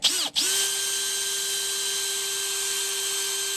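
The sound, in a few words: drilling a pilot hole in a Ford Ranger roof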